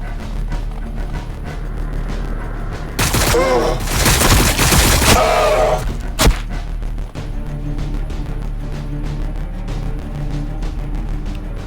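Sustained automatic gunfire and explosive bursts from Warhammer 40K: Battlesector, loud and dense for a few seconds amid a constant rumbling battle backdrop, with a sharp crack after the volley.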